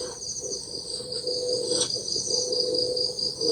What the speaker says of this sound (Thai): จักรแตนบินวืดๆจังวะน่ะ